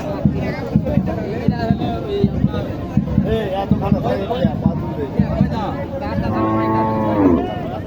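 At a busy cattle market in Naogaon, a deshi cow lets out a long, loud moo near the end, while crowd chatter, shuffling and knocking run throughout.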